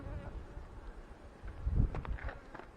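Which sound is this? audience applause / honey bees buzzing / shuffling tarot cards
honey bees buzzing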